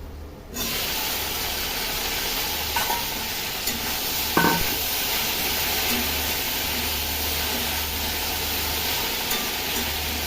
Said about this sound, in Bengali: এই যে ভেন্ডিগুলো ভেজে নেবো